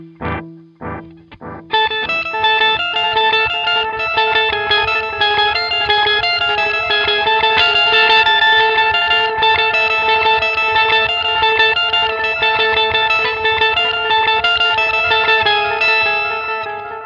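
A guitar tone runs through an effects unit with distortion, giving a bright, twinkly sustained riff with shimmering high notes. It plays steadily after a few short opening plucks.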